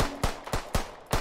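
Gunshots in the Roblox game, four sharp shots evenly spaced in a quick series, close and fairly loud, with no voices.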